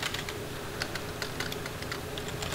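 Rapid keystrokes on a computer keyboard, steady clicky tapping in an irregular rhythm, fairly close and quiet, with no voices.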